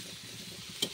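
Vegetables fry in hot oil for gumadi kaya pachadi, giving off a soft, steady sizzle that stays faint throughout, with a single sharp tick near the end.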